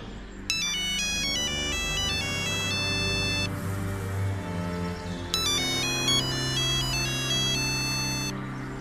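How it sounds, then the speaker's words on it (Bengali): A mobile phone ringtone plays a bright, repeating electronic melody in two distinct bursts, loud and close, over a low background hum with no voices. "বাসের জন্য দাঁড়িয়ে থাকতে থাকতেই একটা ফোন আসে।"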